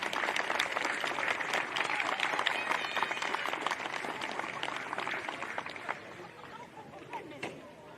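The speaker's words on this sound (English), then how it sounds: "one last round of applause for our seniors and their families" Audience at a varsity high school softball senior night applauding, a dense, sustained clapping from a crowd that carries on for several seconds and gradually thins out, with some chatter mixed in.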